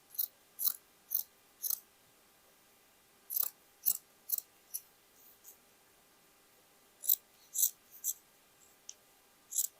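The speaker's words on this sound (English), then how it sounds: "I can cut one piece like this." Scissors cut old denim jeans fabric in short crisp snips, grouped in clusters with pauses between, close and fairly faint.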